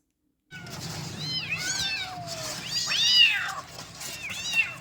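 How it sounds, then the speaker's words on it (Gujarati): Jungle cat kittens in Porbandar mewing repeatedly, high rising and falling cries from several young cats close by over a low steady background rumble. "આ બચ્ચા બિલાડીના નથી, આ બચ્ચા છે જંગલ કેટના છે."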